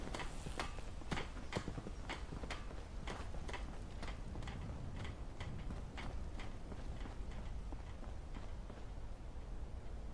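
Armored horses' hooves in the video game Fallout London clip-clop in a steady, regular rhythm of sharp knocks over a constant low rumble, continuing throughout at moderate loudness.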